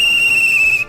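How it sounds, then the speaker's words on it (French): A guard's whistle from a LEGO Subway Surfers set gives one sustained shrill, steady tone lasting under a second, loud and close, cutting off abruptly at the end. "C'est bien le sifflet du gardien."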